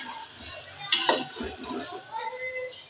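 Pulao with dried plums frying in a pot: soft sizzling with a sharp clank of a spoon against metal and stirring scrapes, fairly quiet and close, with someone talking over it.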